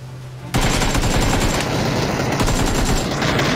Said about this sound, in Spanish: guarda que yo disparo a este lado